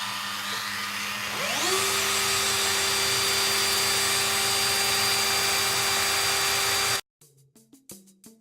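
A drill machine spins up in a homemade jig to taper a wooden dowel into a model ship mast, rising to a steady whine that holds for several seconds, then stops, followed by a few quieter knocks and handling sounds.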